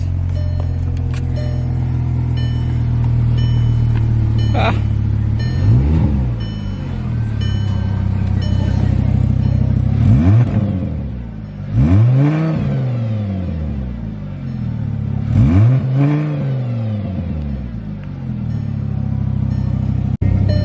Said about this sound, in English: We'll give you guys some revs.